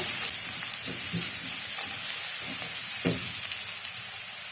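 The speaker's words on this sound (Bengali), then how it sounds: "এবার একটু ভালো করে ভেজে নেব।" Chopped garlic fries in oil in a pan, giving a continuous bright sizzle and hiss, with a few soft stirring knocks underneath and no voices.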